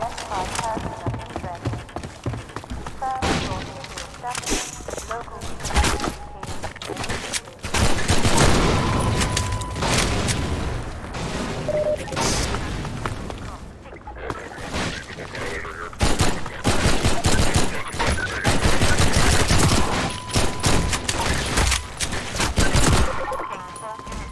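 Rapid, dense gunfire from Half-Life 2 with MMod, sharp repeated shots in quick bursts and sustained volleys across the whole stretch, loud and close, with a voice talking over parts of it.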